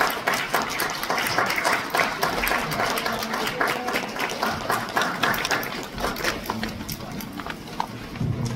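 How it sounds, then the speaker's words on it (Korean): An audience at a dental association seminar applauds after a certificate of appreciation is presented to a lecturer, with dense sustained clapping from many hands that fills the room and fades slightly toward the end. "다시 한번 큰 박수 부탁드립니다"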